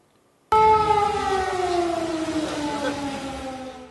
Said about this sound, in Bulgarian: В Донецк днес се чу вой на сирени.